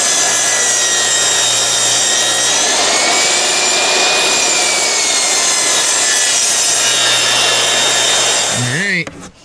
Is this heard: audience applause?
no